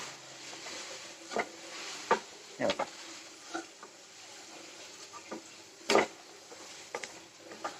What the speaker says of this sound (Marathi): परत त्याच्यात साखर टाकायची आणि परत त्याला हलवायचं